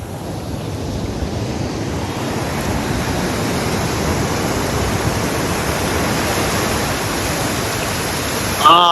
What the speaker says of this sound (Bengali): আর এই যে ঢেউ একের পর এক ঢেউ আসতেছে।